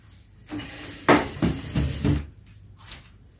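A chair is picked up and set into place for a gentle exercise session, giving a handful of close wooden knocks and soft scrapes over about a second and a half, with no talking.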